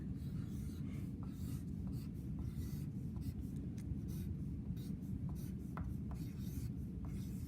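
Marker or pen writing a name in giant capital letters across paper, a continuous close scratchy rubbing with short stroke breaks, steady and alone.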